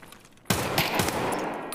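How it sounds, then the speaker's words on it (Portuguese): A burst of automatic gunfire in the video game Escape from Tarkov, sudden and loud after a brief quiet lead-in, with rapid shots running to the end. "Tiro lá na loja que a gente tá."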